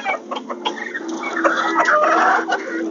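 Chickens cluck and squawk inside a farm coop, loud busy overlapping calls close by with no talking.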